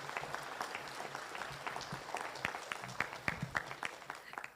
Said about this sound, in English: So let's give all the Suri breeders a big round of applause.